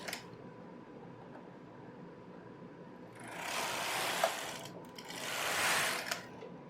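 A knitting machine carriage makes two slow passes knitting rows of ribbing, each a rising and falling mechanical swish and rattle. The passes sound close and fairly quiet, over low background hum, with no talking.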